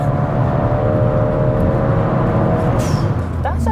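A turbocharged Seat Ibiza FR runs with a steady, loud engine drone and whir, followed by a brief sharp hiss of the blow-off valve near the end.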